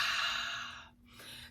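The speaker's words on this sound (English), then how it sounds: "So when you breathe out, you have that sound like an ocean" Slow, breathy exhale through a constricted throat in the ocean-breath style, a soft hissing rush close to the mic that fades out and then starts again quietly.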